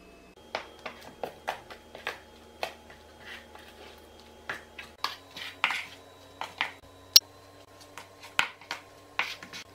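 Wheat flour being stirred into mashed banana in a bowl, a run of soft scraping and clinking spoon strokes that repeat in an irregular rhythm at close range, with no talking.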